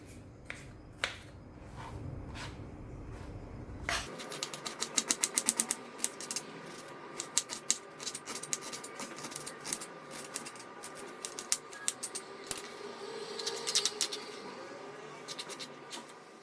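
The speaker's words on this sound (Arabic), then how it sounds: "المهم غنحاول نقطع البصله، نقطعها طيفات صغار تكون مشلضه مزيان صغيره" A knife chops an onion into small pieces on a board, making a quiet, irregular run of sharp taps and clicks. The taps come quicker and denser as the chopping goes on.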